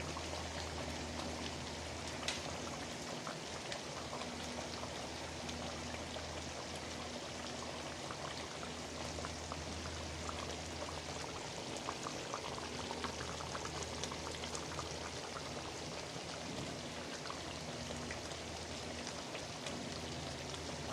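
Alpaho of Taytay boiling in a pot, a steady, dense bubbling and simmering that runs unbroken from start to finish with a low hum beneath, no voices.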